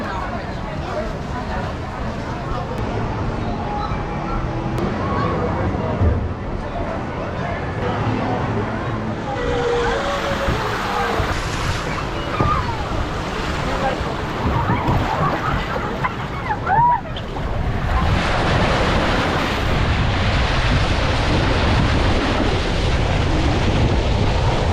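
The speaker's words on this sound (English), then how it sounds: "This is the wave pool." Waves rolling and washing through a crowded water park wave pool in Las Vegas, a broad continuous surf wash with wind noise and crowd chatter throughout.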